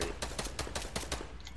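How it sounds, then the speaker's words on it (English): Rapid gunfire from a shooter video game, a fast burst of about eight evenly spaced loud shots over a continuous low rumble, with no talking. "Shoot him down already."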